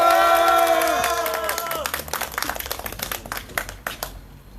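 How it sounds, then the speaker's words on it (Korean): A crowd at a Korean candlelight rally claps and cheers loudly together, opening with a swell of shouting voices that gives way to scattered clapping that thins out toward the end. "박수를 크게 치면서 함성 지르면서"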